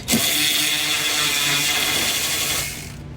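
A power tool, likely an impact wrench, runs in one sustained loud whir for about two and a half seconds, loosening bolts on a Freightliner bus in a shop, then trails off.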